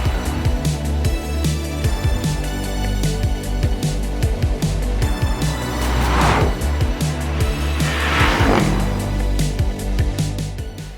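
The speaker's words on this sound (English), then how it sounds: "the flagship Mercedes-AMG SL63 that I'm driving right now" A Mercedes-AMG SL63 roadster with an eight-cylinder engine driving, a steady loud engine drone with rising and falling revs and two swelling passes of rushing noise.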